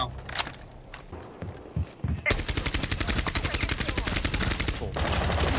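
Rainbow Six Siege gunfire with heavy recoil: after scattered faint clicks and footsteps, a loud rapid automatic burst starts and keeps hammering at a steady fast rhythm for several seconds, close and dominant, with no voices over it.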